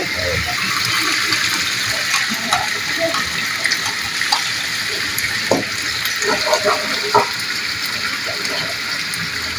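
Dough fries in hot oil with a steady, loud hiss and sizzle, sprinkled with small pops and crackles, while a person talks quietly underneath.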